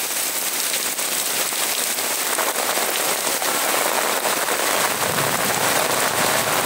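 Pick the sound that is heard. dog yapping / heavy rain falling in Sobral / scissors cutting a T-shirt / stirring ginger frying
heavy rain falling in Sobral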